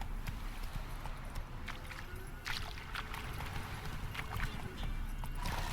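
Hooves of Roach, the horse in The Witcher 3, clip-clop at a steady riding pace over a continuous bed of ambient game sound, with no voices.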